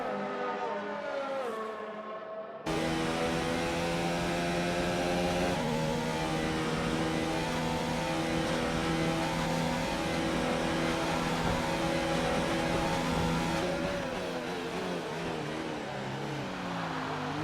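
Several race car engines in the RSF1 racing game, a Division 5 league race at the China circuit, rev loudly with sustained high, whining tones that rise and fall. Nearby cars overlap in a continuous roar with no talk.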